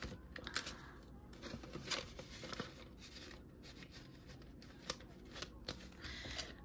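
Paper cash bills being handled and slid into a new envelope: close, soft rustling and flicking of paper with quick crisp riffles throughout, fairly quiet.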